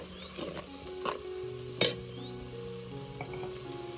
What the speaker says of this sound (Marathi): आता यामध्ये मी घालते टोमॅटो. टोमॅटो सुद्धा अगदी आपल्याला मऊ होईपर्यंत शिजून घ्यायचं.